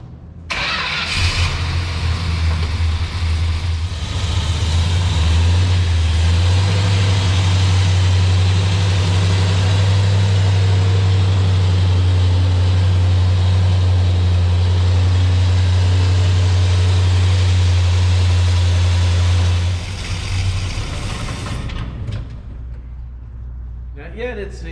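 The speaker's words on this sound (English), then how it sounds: "we're going to see if we can get it to draw some fuel out of the gas can and sit here and run on its own for a while" A patina Sweptline Dodge pickup truck's engine starts and runs on fuel drawn from a gas can, holding a loud, close, steady low idle for about twenty seconds before cutting out. People talk over it.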